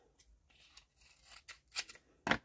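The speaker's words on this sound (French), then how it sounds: "Des ciseaux." Scissors snipping double-sided tape during a craft project, a few quiet crisp cuts spaced out, ending in one sharper, louder snip, with no talking.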